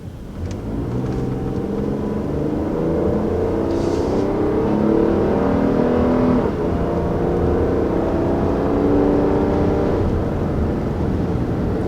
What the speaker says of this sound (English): we can use the max function to see what type of engine noise penetrates the cabin as we